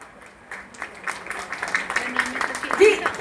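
Crowd applause at the poster and song launch of the Garhwali film Raibar in New Delhi, a swelling patter of many hands clapping that builds over a few seconds and blends with background voices.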